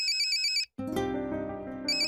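An incoming call sets off a phone ringtone: a bright electronic ring breaks briefly, shifts into a lower melodic tone, then the high ring returns, loud and close.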